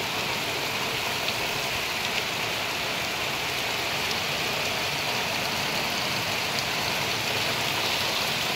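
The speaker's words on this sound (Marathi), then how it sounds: "पण छान पाऊस आहे, मस्त पाऊस आहे." Steady monsoon rain falls on a farm orchard, a constant even hiss of drops on surfaces that fills the whole stretch without a break, with no voices.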